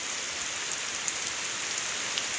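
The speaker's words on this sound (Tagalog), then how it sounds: "Malakas ang hangin at ulan." Heavy rain driven by wind from Typhoon Goring pours down in a dense, steady hiss with scattered drops striking nearby surfaces, loud and continuous throughout.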